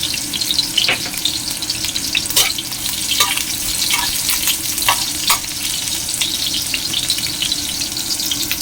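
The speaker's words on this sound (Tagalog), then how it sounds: "Na tayo ng oil, lagay natin ang ginger at ang ating Szechuan pepper" Ginger and Sichuan pepper frying in hot oil in a wok, a steady close crackling sizzle with occasional sharper pops and stirring scrapes throughout, no voices.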